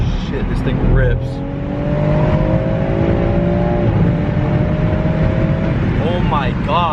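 BMW X3 M Competition SUV pulling hard up an on-ramp onto the freeway, its engine rising through rising revs with audible gear shifts, loud from inside the cabin, while people talk and exclaim over it.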